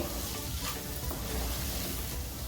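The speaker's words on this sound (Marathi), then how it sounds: "इथे आपण एव्हरेजची हिंग पावडर थोडीशी टाकूया एक मिनिट परतवून घेते" Asafoetida powder sizzles as it fries in a pan while cooking dry fenugreek bhaji, giving a steady, close hiss with light stirring and no talk.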